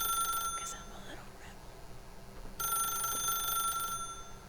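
A telephone rings in The Stanley Parable video game, with a steady electronic ringing that comes in two bursts separated by a pause, heard under a person talking.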